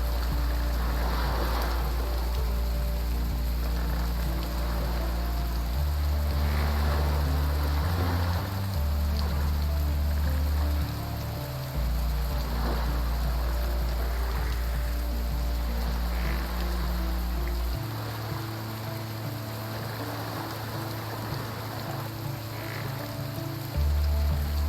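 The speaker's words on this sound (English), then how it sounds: "And it's raining." Steady rain falls with a continuous hiss, layered over low sustained droning tones that shift in pitch every few seconds.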